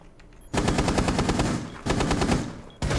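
Automatic rifle fire in the video game Rainbow Six Siege: three sharp rapid bursts separated by brief pauses, loud and close, with no talking.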